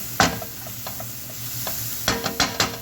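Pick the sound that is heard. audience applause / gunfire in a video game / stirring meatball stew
stirring meatball stew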